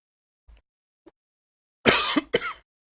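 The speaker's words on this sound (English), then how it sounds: "I got to cough" A person coughs in two close, harsh bursts near the microphone, preceded by a couple of faint small throat sounds in an otherwise quiet indoor setting.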